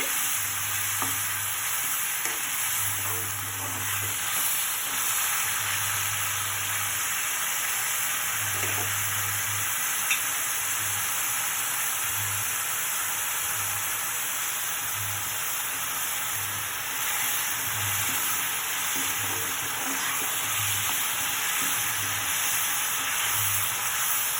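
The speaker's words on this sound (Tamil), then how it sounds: "கொஞ்சம் நல்லா வதங்கட்டுங்க." Ingredients for kara kuzhambu sauté in oil, giving a steady sizzling fry under regular spatula scrapes and stirs, close and continuous, with a low repeating hum running underneath and no talk.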